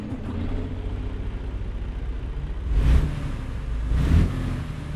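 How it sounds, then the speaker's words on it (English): Detroit Diesel truck engine in American Truck Simulator, a low steady idling rumble with two brief revs swelling louder near the end, heard alone without talk. "I'm going to shut up and let you listen to the engine. It's a Detroit diesel, if I remember correctly."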